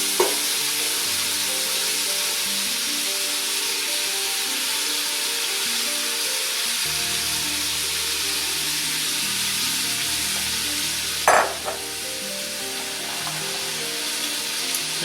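Yellow onion and thinly sliced carrot sizzle steadily in a heavy-bottomed stainless steel pan, a continuous close frying hiss with a brief louder stir or clatter partway through.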